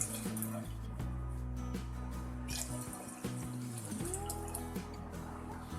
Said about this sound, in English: Now add 2 cup of water.